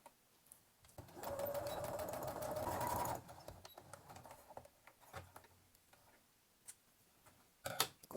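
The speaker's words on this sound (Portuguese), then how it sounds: "a gente vai passar uma costura reta." A sewing machine runs a straight seam on fabric while an Easter bunny outfit is sewn. It gives a steady, loud, close whir for about two seconds, then falls to quiet clicks and handling sounds.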